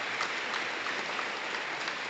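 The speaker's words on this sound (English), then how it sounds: "And let's give them another round of applause." A crowd at a high school Hall of Honor ceremony claps in steady, dense applause that sounds somewhat distant and quiet, with no speech over it.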